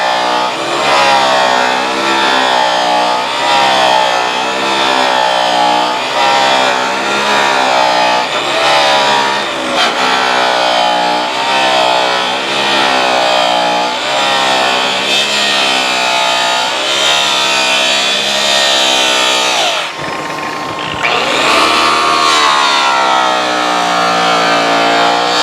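A buffing machine polishes along a weld on a pitted steel cattle bumper using rouge compound, giving a loud, continuous motor whine that wavers in pitch as pressure shifts, with a brief cut-out near the end.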